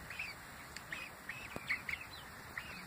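Young ducks or poultry at a homestead coop give a string of faint, short quacking calls, scattered and irregular over quiet background hiss, with one sharp knock midway.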